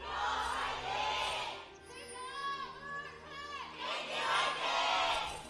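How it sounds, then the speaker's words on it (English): A packed stadium crowd at an OGN League of Colored esports match in Seoul roars and shouts in swelling waves, loud and reverberant, with a high-pitched chant rising in the middle. "You can hear the crowd."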